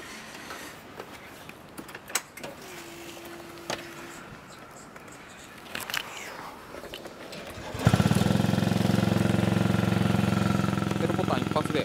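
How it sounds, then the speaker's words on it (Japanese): A Honda Z4 four-stroke moped scooter with an aftermarket kickstand and kick lever starts at the push of a button near the end, then settles into a steady, loud close idle after quiet handling sounds. "ちょっとエンジンをかけてみたいと思います"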